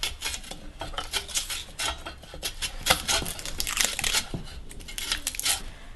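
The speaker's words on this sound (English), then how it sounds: "so while he grates that, I'm gonna peel this garlic" Fresh ginger rasped on a grater while garlic cloves are peeled in a kitchen, a busy run of scraping, crinkling and clinking close by with no talk.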